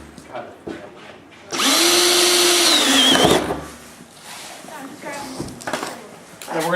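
A power drill fitted with a wood spade bit bores a hole, a loud close whine lasting about two seconds and rising in pitch, with someone talking before and after.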